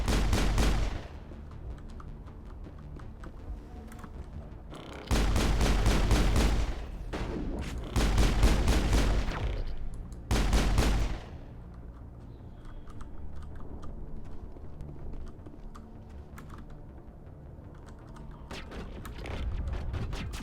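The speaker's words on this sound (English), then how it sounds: "Yeah, there was a lot of explosions going off." Rapid bursts of gunfire with booming blasts in co-op Mass Effect come in loud clusters, separated by quieter stretches of rumbling battle noise.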